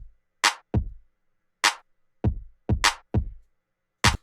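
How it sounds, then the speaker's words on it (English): A programmed beat of deep, booming kick drums alternating with sharp, crisp claps, each hit standing alone against silence in a steady groove. "So our kick and our clap sound like this."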